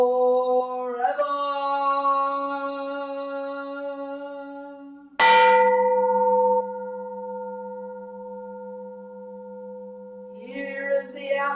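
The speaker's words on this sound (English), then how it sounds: "Here is the after sound of the bell." A temple bell at a Zen Buddhist Sunday service rings out, then decays as a long, steady humming tone. A second sharp strike about halfway through renews the loud ring, which fades gradually with no talk over it.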